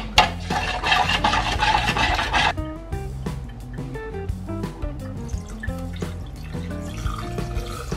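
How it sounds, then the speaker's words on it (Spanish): Water pours into a pitcher of homemade lemonade with ice, a bubbling gush at first that gives way to clinking and rattling ice cubes, close and moderately loud with no talking. "ahora le vamos a agregar más agua y hielo"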